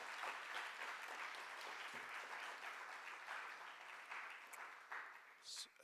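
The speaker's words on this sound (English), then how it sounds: "Let's give them a well-rounded, deserving applause." An auditorium audience at a mental math championship gives sustained, even applause, a faint but dense wash of many clapping hands that holds steady and tapers toward the end.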